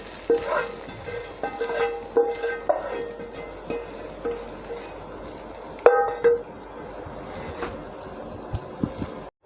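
Hot tadka tempering poured over a yogurt eggplant dish (dahi baingan) in a home kitchen, giving a close sizzle with clinks of a metal pan and spoon, then a louder burst of frying near the end.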